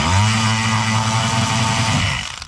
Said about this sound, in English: Obviously I've got the luxury of power tools.